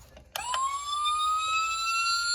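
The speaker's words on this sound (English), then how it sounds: "Let me turn the siren on." A 4-tone police siren on a 2001 Ford Crown Victoria Police Interceptor abruptly starts with a couple of clicks, then rises into a steady, loud electronic wail that holds its tone.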